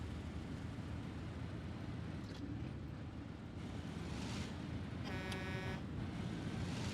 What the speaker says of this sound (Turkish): Evet, kornamız da şekil.